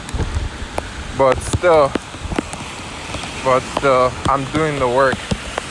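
Steady rain pattering outdoors during a walk, a soft constant hiss with scattered drop impacts running beneath a man's intermittent close speech.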